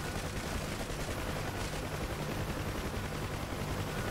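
Rockets fired from a UH-1 Huey helicopter in the DCS combat flight simulator, a dense continuous roar of rapid explosive bursts that stays loud and steady throughout with no talk.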